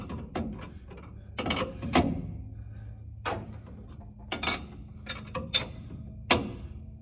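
Wrench turning a threaded pipe fitting into place, a series of quiet metallic ratcheting clicks and scrapes in irregular bursts, separated by short gaps of near silence.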